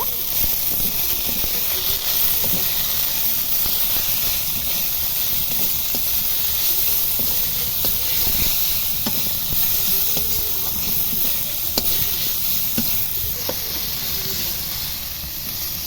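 Spiced masala sizzles steadily in a pan with turmeric, salt and a little sugar for a potol (pointed gourd) curry, a continuous close hiss with faint clinks of stirring and no talk.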